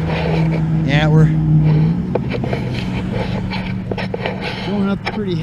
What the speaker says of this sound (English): Sorry for all the car noise, but like I said, it goes right along 30th Street, and that's a very, very busy arterial.